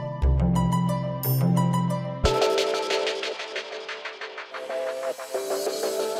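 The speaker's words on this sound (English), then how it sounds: "a new radio station that translates solar activity into sound" Solar activity converted into sound for a radio station: dense, shifting electronic tones with stacked harmonics and pulsing, glittering textures, steady and fairly loud with no voices.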